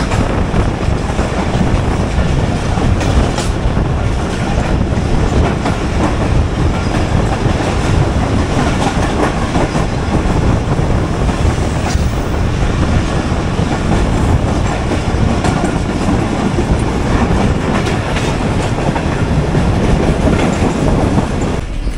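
A passenger train hauled by a GU 40 locomotive rolls past near Rohri, a loud, sustained rumble with rhythmic clickety-clack of wheels on rail joints and occasional squeals, close and continuous.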